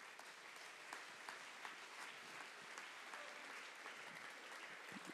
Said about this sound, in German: Einen grossen Applaus um Hans